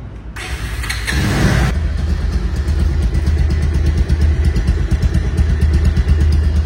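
A Pulsar DD ABS motorcycle engine idles close by with a steady, even throb after a brief burst of noise at the start.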